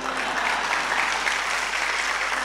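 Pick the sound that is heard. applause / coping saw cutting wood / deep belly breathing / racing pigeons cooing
applause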